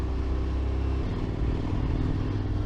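A motorcycle rides through a mountain pass in France, its engine a steady low thrumming rumble with some clatter, close and continuous, with no speech.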